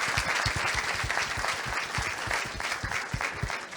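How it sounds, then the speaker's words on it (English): An audience at an NHS App presentation gives the team a round of applause, dense continuous clapping from many people with some close, distinct claps punctuating the steady wash. "Round of applause for the team, please."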